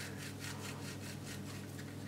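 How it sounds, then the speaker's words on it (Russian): A piece of frozen pastry dough is rubbed over a coarse grater, giving close, rhythmic rasping strokes at a steady pace, roughly four per second, quiet and without talking. "Достаем замороженный кусочек теста, даже если он не сильно замерз, и натираем его на крупной терке"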